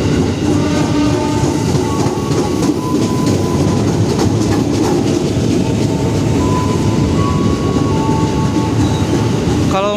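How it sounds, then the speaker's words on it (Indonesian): An Indonesian KRL commuter train rumbles steadily close by as it arrives at Matraman station, with rolling wheel noise and faint high squeals of brakes as it slows. "KRL arah Bekasi merapat di stasiun"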